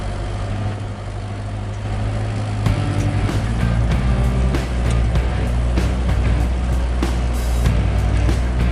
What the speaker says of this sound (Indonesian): Oh, mobil Bang Chandra itu nah.